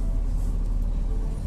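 TransJakarta route 9D city bus pulling up at a stop, a steady low engine rumble with road noise running throughout, moderately loud and close, with no clear voices.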